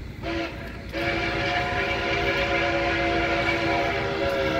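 The NKP 765 steam locomotive sounds its chime whistle, a loud, sustained multi-note blast that cuts in after a brief first toot and holds steady to the end over rail noise.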